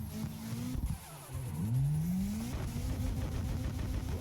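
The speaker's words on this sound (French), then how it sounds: "on revient un petit coup de clutch kick pour faire partir tout ça" Car drifting in the racing game Assetto Corsa, with a clutch kick: a loud, steady engine roar with a sharp rev rising in pitch mid-way, continuing at high revs without talk.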